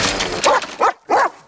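A dog gives three short, loud barks or yelps in quick succession over a noisy background, close by, with no talking.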